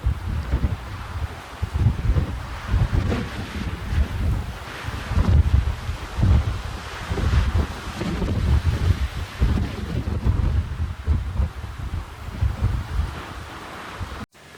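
Strong wind buffets the microphone on an exposed hilltop summit overlooking a bay, a loud continuous roaring rush with gusting swells and no speech, close and overwhelming throughout.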